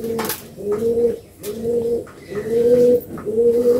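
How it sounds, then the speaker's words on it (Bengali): Andhra Kalanka pigeon held in the hand, giving repeated soft, throaty coos in a steady rhythm of about five phrases, close and clear with no talk over it. "খুবই সুন্দর কোয়ালিটির পায়রা।"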